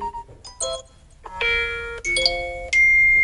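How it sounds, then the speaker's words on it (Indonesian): An iPhone WhatsApp message notification ding tone: several bright, short electronic chimes in a row, each ringing out clearly with no talking. "ini saya suka yang bunyi ding gitu ya"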